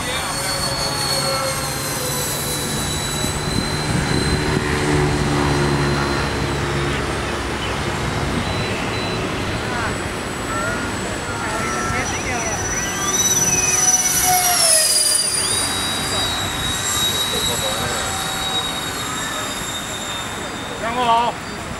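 A model Su-27 jet with twin Mercury 64 engines roars at full throttle, a loud steady whine with shifting high tones, while people talk nearby.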